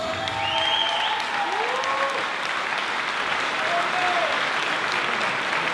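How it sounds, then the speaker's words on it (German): An audience applauds at a combat-sport fight night for winner Christian Mach, dense continuous clapping from a crowd filling the room, steady and loud throughout with a few whistles rising above it. "Ladies and Gentlemen, einen riesen Applaus für Christian Mach!"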